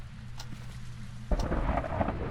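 Thunder from a lightning storm in the game Phasmophobia, a low steady rumble that suddenly swells into a heavier crack and roll with rain hissing underneath.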